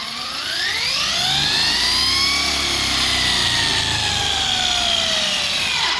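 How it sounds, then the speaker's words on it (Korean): A small RC car engine idles, whining steadily with rising and falling pitch, loud and close, running continuously without any voices. "공회전 하겠습니다"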